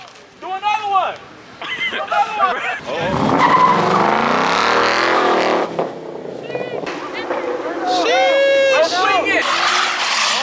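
At a car meet, a car does a burnout with loud, sustained tire squeal and revving engine building over several seconds, while people nearby shout and cheer over it.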